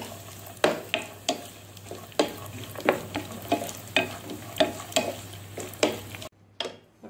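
Cashews, pistachios and raisins sizzle as they fry in a pan while a spoon stirs them, giving steady sizzling broken by regular scraping strokes against the metal, close and moderately loud.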